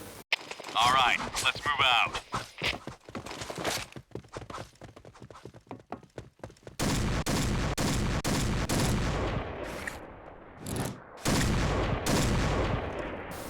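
Rapid bursts of gunfire from the Point Blank shooter game ring out, first as quick single shots, then as a dense sustained barrage, loud and close, with a voice talking over parts of it.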